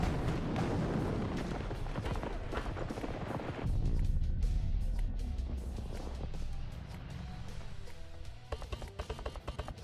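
Explosions and gunfire from the video game Battlefield 2042 sound as dense, loud booms and rapid cracks, with a heavy rumbling blast near the middle and sharp repeated shots toward the end.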